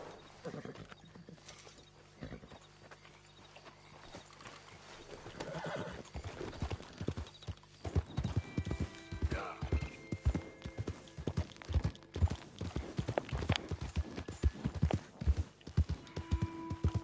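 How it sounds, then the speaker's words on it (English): Horse hooves clip-clop in the Red Dead Redemption video game, starting sparse and faint, then growing into a loud, quick, continuous trot with a whinny and creaking tack. "Sorry, horsey."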